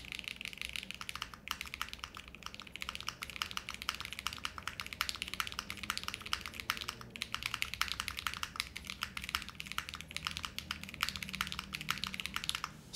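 Rapid, steady typing on a custom mechanical keyboard with light springs, roses and a palm plate, giving a subtle, even clatter of keystrokes that runs close and continuous throughout with no talking.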